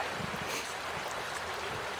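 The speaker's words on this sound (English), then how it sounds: "Very pretty water sounds here at Royalton Ravine." Water in a stream at Royalton Ravine rushes and burbles continuously, a soft, steady wash of flowing water heard alone at moderate distance.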